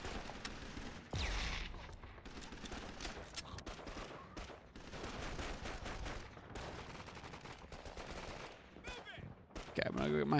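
Rapid bursts of game gunfire crackle through a Call of Duty II: Big Red One battle against Italian soldiers on a PS2, dense volleys with a heavy boom near the start and shots continuing to the end.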